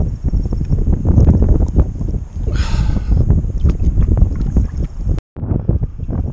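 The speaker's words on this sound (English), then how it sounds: "Well, the wind has picked up." Wind buffets the microphone steadily on a lake during kayak fishing, a loud continuous rumbling roar with gusty surges and a brief dropout near the end.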